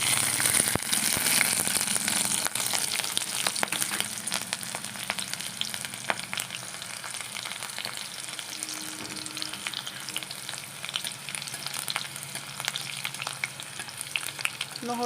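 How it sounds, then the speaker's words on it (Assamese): Garlic and green chilli fry in hot oil in a kadai, giving a steady, dense sizzle that crackles continuously and stays fairly loud and close throughout, with no voices. "তাত এতিয়া মই নহৰু আৰু জলকীয়া দি দিছোঁ।"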